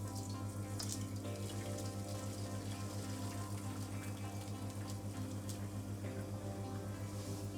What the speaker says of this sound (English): make sure you have a nice pot ready, a colander. So slowly draining it.